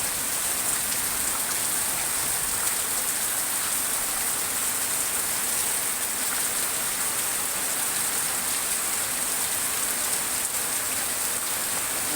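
A downpour in Cikarang, Indonesia, driven by strong wind, drums on nearby surfaces in an even, roaring wash of rain that stays loud and steady throughout, with no talking.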